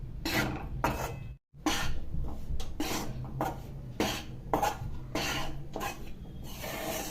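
Flour being stirred and roasted in a heavy-bottomed pan, with repeated scraping and rubbing strokes of a spoon against the metal in an uneven rhythm, close and moderately quiet, broken by one brief pause.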